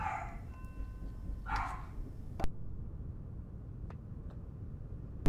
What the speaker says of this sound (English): the dogs still got loud